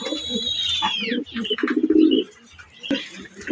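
Domestic racing pigeons, including a newly paired hen, coo and chirp at close range in a loft, with a bright descending call early and a burst of throaty cooing mid-clip.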